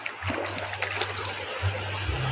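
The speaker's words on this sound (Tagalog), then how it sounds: "Tubig diri sa Pinamunuan no." River water at Pinamunuan flowing steadily, a close, continuous rushing and splashing wash with a low hum underneath throughout the short stretch.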